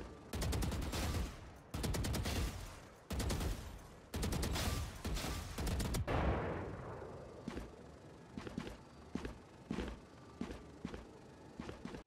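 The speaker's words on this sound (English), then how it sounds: "It only decreases loud sounds like gunshots that could cause hearing damage" Gunfire from the video game Valorant: several loud bursts of rapid shots in the first half, separated by short gaps, then quieter scattered single shots and footstep-like taps, with no talking.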